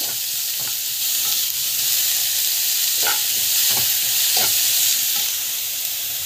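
Grated carrot and chana dal sautéing with asafoetida and rock salt in a pan make a loud continuous sizzle, with several scraping spatula strokes near the middle, up close and with no talking.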